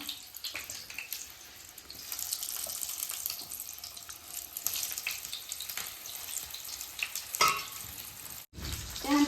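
Sliced onions are lightly roasted in a pan for stuffed karela, with a continuous close frying sizzle and occasional stirring scrapes, heard alone without talk.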